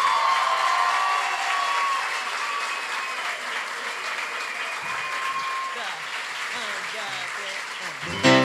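Enthusiastic audience applause for a singer at a live concert, a dense steady clatter of many hands that continues for several seconds before swelling again at the end.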